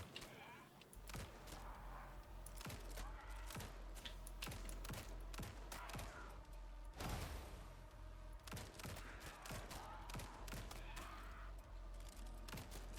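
Rapid bursts of gunfire in the video game Grind Survivors, split-shot weapon firing two bullets, sharp repeated shots in quick irregular rhythm, fairly quiet and close, over a steady low background hum.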